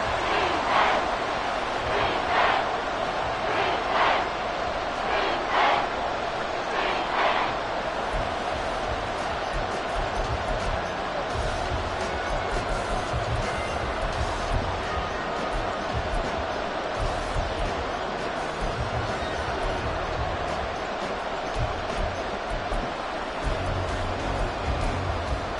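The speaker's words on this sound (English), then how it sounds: "this crowd doing their best to make a lot of racket" Football stadium crowd roaring loudly and steadily at a tense late-game moment, a dense continuous wall of cheering with a few sharper shouts early on.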